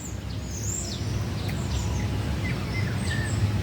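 Several birds sing and chirp faintly in the distance in a park, scattered short calls over a steady low murmur of outdoor background noise.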